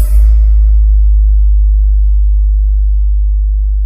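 A loud, steady low bass test tone from a DJ sound-check rig, sounding alone after a short bright burst at the start and holding unchanged for several seconds.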